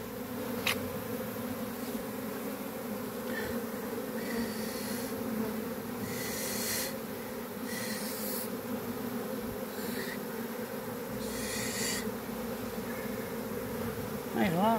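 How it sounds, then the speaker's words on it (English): A swarm of honey bees buzzing close and continuously, a dense droning hum that holds steady throughout with brief hissy rustles and a few clicks on top, no talk. "There's a lot of damn bees right there,"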